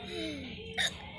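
A single sharp hiccup from a person bursts out near the end of a short stretch of quiet indoor background with soft, indistinct voices.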